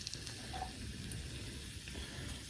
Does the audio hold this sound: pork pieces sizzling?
yes